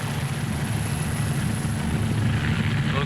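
A helicopter runs close and loud in a steady drone of rotor and engine, with a constant high whine on top and no voices.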